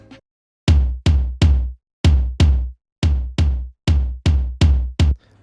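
Percussion loop for an Afro House beat: eleven punchy, low, booming hits in a syncopated pattern, loud and dry with short gaps between them, no other instruments.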